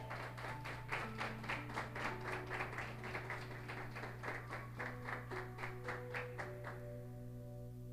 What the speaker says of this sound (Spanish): Le podemos dar un aplauso a Él